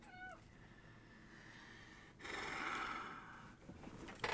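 A cat gives a short, faint meow at the very start, with a rising and falling tone, followed by soft rustling and quiet room noise, distant and low in level.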